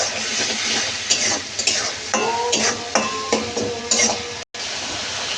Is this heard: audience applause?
no